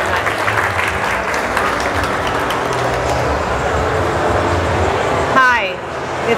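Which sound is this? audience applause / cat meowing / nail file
audience applause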